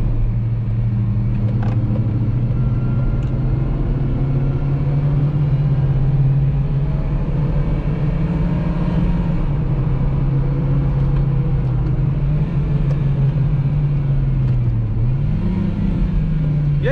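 A Ford Fiesta 1.0 sedan's engine heard from inside while driving and downshifting, a steady loud mid-low drone with rumble that dips and rises in pitch near the end as gears change.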